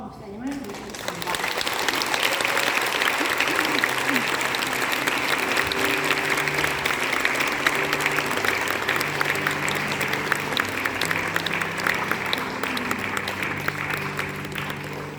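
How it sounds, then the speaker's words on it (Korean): Warm applause from a church congregation welcoming the pastor to the pulpit at a Jeju revival service, steady and full throughout after a brief quiet start, with no talking over it. "뜨거운 박수로 목사님을 모시겠습니다"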